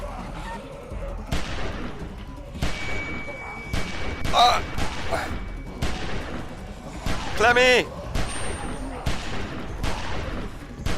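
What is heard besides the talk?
gunfire in the video game The Walking Dead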